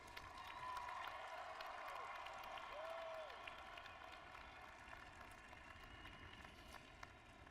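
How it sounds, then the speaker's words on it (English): Graduates at a University of Washington commencement applaud in a large hall, a steady, distant wash of clapping that continues evenly and slowly fades. "The graduates should applaud their families and friends who have supported them through the years."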